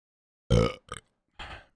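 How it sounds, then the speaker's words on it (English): Someone burps close into a microphone, one loud throaty belch followed by two shorter, fainter burp sounds after brief pauses. "And burp into the microphone."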